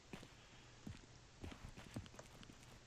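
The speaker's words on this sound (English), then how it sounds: "They have the same footstep sounds." Footsteps in the video game Garry's Mod sound as a run of soft, evenly spaced thuds, each step faint and close, with no talking.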